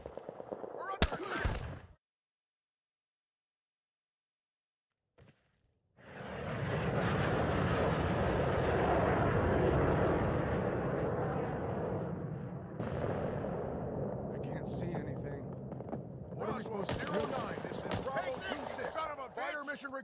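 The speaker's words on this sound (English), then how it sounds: "Bomb inbound. Take cover." Bomber aircraft on a bombing run in Rising Storm 2, with a short burst of gunfire, a silent pause, then a loud roaring engine drone and rumbling blasts that build and continue to the end.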